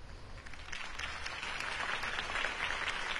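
A crowd applauds after a mayoral campaign speech for Harvey Dent, a soft, even wash of clapping that sounds distant and muffled.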